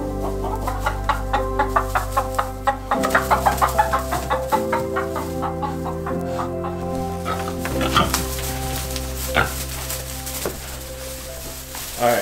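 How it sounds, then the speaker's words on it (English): Chicken clucking in a cold-weather farm stall setting near pigs, short repeated clucks in bursts over a steady low hum and other background noise. "There you go. Nobody's chasing that chicken."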